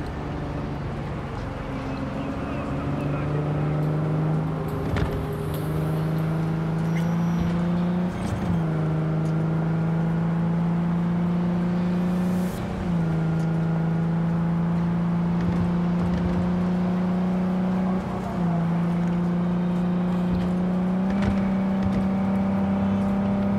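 A car engine in the video game Cyberpunk 2077 hums steadily and climbs in pitch as it accelerates, with several clear gear shifts breaking the rising tone over a long, continuous drive.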